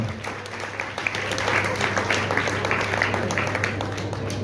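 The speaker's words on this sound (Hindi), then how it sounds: "एक बार जोर से तालियां हो जाए।" An audience at a ceremony claps loudly in a steady burst of applause, with scattered individual claps standing out over a constant low hum.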